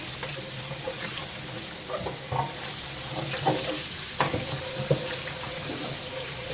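Tap water runs into a kitchen sink as it is rinsed out after washing collard greens, a steady hissing flow with occasional splashes and clinks, close by and with no talking.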